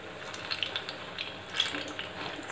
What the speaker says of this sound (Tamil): நல்லா முக்கி எண்ணெயில போட்டு ஃப்ரை பண்ணலாம்